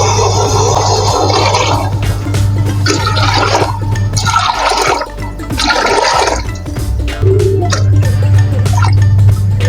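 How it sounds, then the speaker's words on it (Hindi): Water pours in several bursts with gushing and splashing into a cooking pot of rice for keema pulao, separated by short pauses, over a low steady hum close by. "ये वाले में 5 गिलास पानी डालूंगी।"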